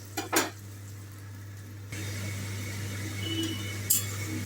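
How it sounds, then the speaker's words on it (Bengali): Mustard paste simmering in a wok over the stove, a soft steady sizzle and bubble under a constant low hum, with a few clinks of a utensil against the pan at the start and end. "আমার কড়ায় সর্ষে যেটা পেস্ট আমি দিয়েছিলাম সেটা ফুটতে শুরু করে দিয়েছে।"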